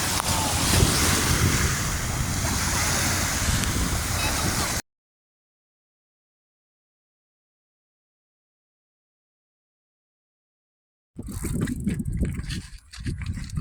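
Ocean waves washing onto a rocky gravel beach near a fort in Key West, heard as a loud, roaring surf buffeted by heavy wind noise; the sound cuts out into several seconds of silence, then returns.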